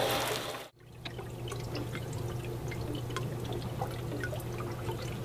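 Water runoff from soil samples trickles and pours faintly and steadily, with light drips over a low background hum after a short break at the start.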